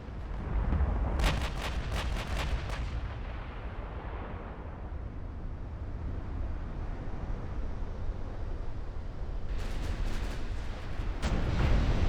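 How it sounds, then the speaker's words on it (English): 18-inch naval guns from a video game warship thunder in a dense, continuous rumble of heavy artillery fire, with sharper blasts cracking out near the start and again toward the end. "my 18-inch guns are wrecking the enemy capital ships"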